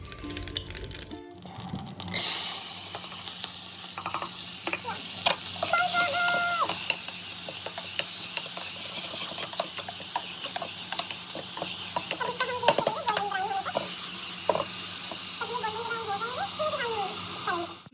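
Cumin, chopped tomato and onion fry in a hot pan, a loud, continuous sizzle and hiss that runs throughout, with occasional stirring scrapes and a brief knock near the start.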